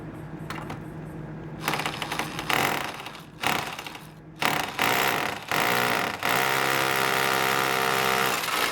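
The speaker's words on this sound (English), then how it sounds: "now I'm ready to drill into the brick" Power drill bursts on and off into brick, several short runs followed by a longer sustained whine, close and loud.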